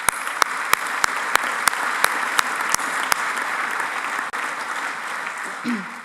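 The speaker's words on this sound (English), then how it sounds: "So round of applause on that" At an honors ceremony, a crowd gives sustained applause, a dense steady wash of clapping with a few sharp, distinct claps punctuating the start, fading slightly near the end as a voice briefly sounds.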